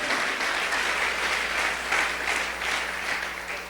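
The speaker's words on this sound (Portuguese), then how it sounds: "Aplauda o Senhor" A church congregation applauds during a sermon, a dense, steady wash of many hands clapping that fills the whole stretch at a moderate level, with no voices on top.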